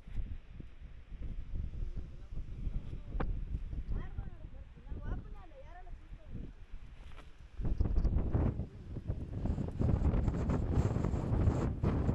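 Wind gusting outdoors along a green roadside, rushing and buffeting the microphone in steady waves that grow stronger and rougher in the second half, with people talking now and then underneath.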